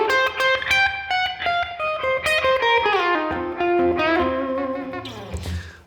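Slow blues guitar lick played on a Heritage 535 semi-hollow electric through a 1966 Super Reverb amp, a run of sustained, bent single notes sliding down, alone and up close, with no talk.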